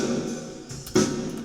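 A snare drum captured close by a top microphone, with a ringing hit near the start and a sharper, louder strike about two-thirds through, with no talking.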